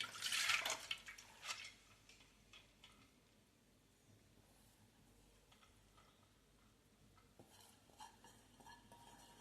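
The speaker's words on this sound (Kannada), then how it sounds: "ನಾನೊಂದು ಸ್ಟ್ರೈನರ್ಗೆ ಹಾಕ್ಬಿಟ್ಟು ಈ ಹೆಸರು ಬೇಳೆನ ಶೋಧಿಸ್ಕೊಳ್ತೀನಿ" Soaked moong dal tipped into a strainer gives a brief wet rattle and splash at first, then water drains with soft trickles, faint drips and small clinks, quiet and close with no talking.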